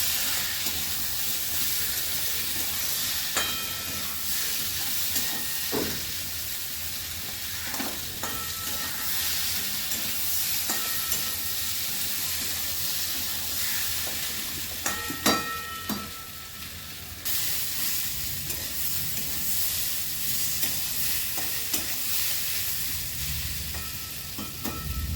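Raw green papaya sizzles steadily while frying in a pan, with occasional sharp scrapes and clinks of a utensil stirring it, continuous and fairly close, with no talk.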